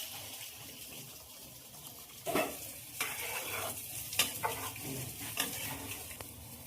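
Water poured into oil-free chicken with tomato cooking in a pan brings soft sizzling and bubbling, with several close stirring clinks and scrapes against the pan.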